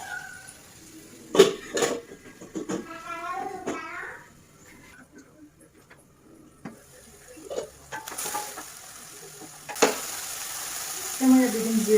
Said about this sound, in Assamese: আলু সিজিলে কিন্তু পূৰা ক্ৰিস্পি হ'বলৈ দিম, সেইকাৰণে আকৌ ভাজি থাকিম।